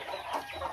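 A brief burst of chicken clucking, close and moderately loud, a couple of quick calls.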